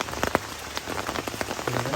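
Heavy rain pours steadily on a campsite on Mount Slamet, a dense hiss of drops with scattered sharper patters striking a surface close by.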